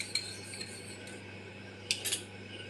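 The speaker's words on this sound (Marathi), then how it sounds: "चमच्याने हलवते एकदा खाली जाऊन बसला असेल" A spoon clinks and scrapes inside a small glass of neem juice while stirring, a few light metallic taps at the start and a short cluster of sharper clinks near the end, close and quiet.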